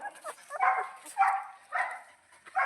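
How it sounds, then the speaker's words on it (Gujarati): A white puppy whimpers and yips in a few short, whiny bursts, close by, with brief pauses between them. "જુઓ ઓલો કૂતરો છે અને આ કૂતરી છે"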